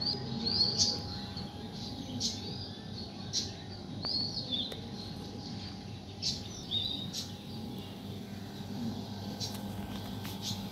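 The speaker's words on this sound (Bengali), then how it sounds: "আশেপাশে অনেক পাখির শব্দ।" Birds chirp and tweet repeatedly in short high calls over a steady low background hum, some calls close and others farther off.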